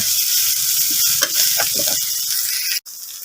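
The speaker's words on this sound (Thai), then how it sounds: "ผัดเครื่องกันครับ" Spice paste stir-frying for a Thai eel dish, a loud steady sizzle with the scrape of a spatula stirring through the pan, continuous and close, with no talking.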